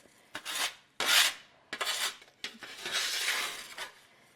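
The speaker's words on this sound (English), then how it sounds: "I am going to use the bench scraper because I do want to get up all these little pieces." A bench scraper scrapes up small pieces of freeze-dried broccoli in several short, dry rasping strokes, close and fairly quiet, with brief gaps between them and one longer scrape near the end.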